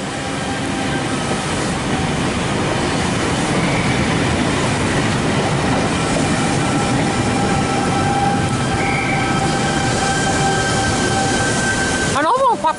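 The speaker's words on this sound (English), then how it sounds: "We have a Central Sydney Terminal service arriving on the platform number 1." Sydney commuter train pulling into platform 1 at Parramatta station, a steady loud rumble of wheels and rail noise throughout with faint squeals, ending in a brief burst near the close.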